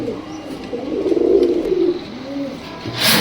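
Two male Prince Kamagar pigeons with red eyes coo in low, rolling calls, close by and fairly loud, with a brief brighter noise at the end.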